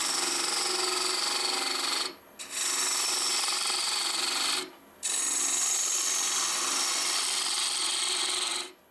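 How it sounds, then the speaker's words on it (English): Small gouge taking big cuts on a spinning natural-edge end grain wood vase on a lathe, a steady loud rasping shear that runs in long passes broken by two brief pauses. "Nice big cuts actually for such a small gouge."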